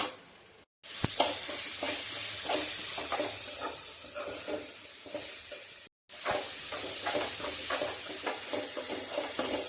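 Garlic frying in a pan, sizzling steadily as it is stirred with repeated scraping strokes, close and alone, with two brief cuts to silence.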